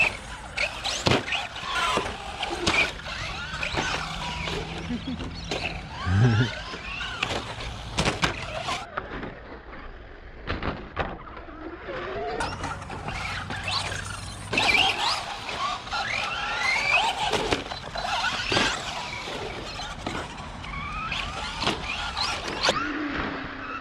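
A radio-controlled short course truck runs with its body shell rubbing against the wheels, giving a continuous whirring, scraping motor whine that rises and falls in bursts, close and fairly loud.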